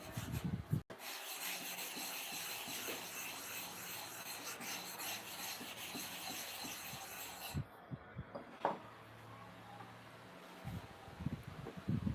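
Steady rasping rub of a metal clipper combing blade being sharpened by hand, continuous scraping strokes close up and fairly loud throughout, with a brief pause near the start and no talk.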